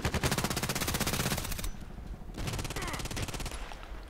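Automatic gunfire in the online shooter Contract Wars: two rapid, loud bursts of machine-gun-style fire separated by a brief pause, close and dominant.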